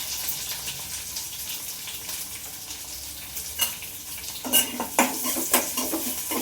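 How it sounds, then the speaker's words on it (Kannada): Onions frying with curry leaves in a pan, a steady sizzle running throughout with occasional louder scrapes and clinks as a spoon stirs them, close by and without talk. "ಈರುಳ್ಳಿ ಚೆನ್ನಾಗಿ ಫ್ರೈ ಮಾಡ್ಕೋಬೇಕು."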